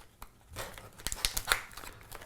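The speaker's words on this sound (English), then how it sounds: "if you open up the packet" Celox A haemostatic packet being opened, with a few crisp crinkling and tearing bursts of packaging foil, close and fairly quiet, no talk.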